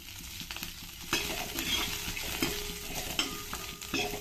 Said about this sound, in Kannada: ಈರುಳ್ಳಿ ಎಲ್ಲ ಬ್ರೌನ್ ಆಗೋವರೆಗೂ ಇದನ್ನು ಸ್ವಲ್ಪ ಹುರ್ಕೋತೀನಿ